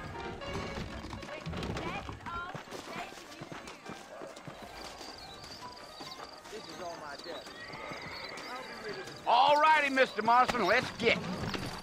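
Saddled horses in the video game Red Dead Redemption clip-clop along with snorts and a whinny, under people talking, growing louder and busier near the end.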